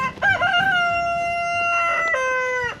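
A big farmyard rooster near an old country cottage crows one long, loud, drawn-out call close by, with a rising start and a sustained strained tone that breaks off near the end; no talk.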